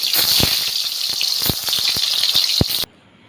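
Paneer pieces fry in hot oil with a close, crackling sizzle and quick clicking pops, running steadily for about three seconds before cutting off abruptly.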